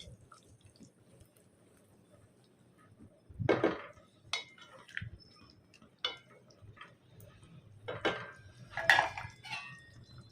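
Aloo chicken kurma, a potato and chicken curry, stirred in a pot with a spoon: a few scattered scraping and clinking strokes against the metal over a quiet background, with gaps of near silence between them.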